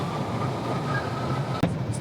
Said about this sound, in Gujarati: આ અંડરગ્રાઉન્ડ ટ્રેન સ્ટેશન છે.